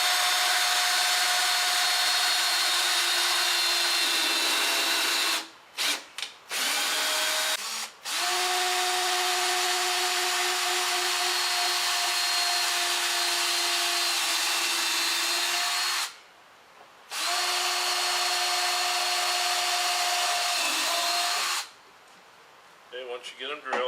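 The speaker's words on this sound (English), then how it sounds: "We're going to go ahead and drill" A power drill with a 1/8 inch bit bores screw holes, running in several long sustained bursts with short pauses between, loud and close.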